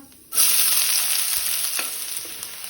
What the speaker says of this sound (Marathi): कांदो बरो तळसून घेवपाक जाय।